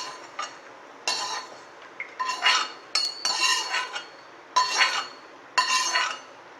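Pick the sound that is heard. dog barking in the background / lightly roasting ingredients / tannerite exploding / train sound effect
lightly roasting ingredients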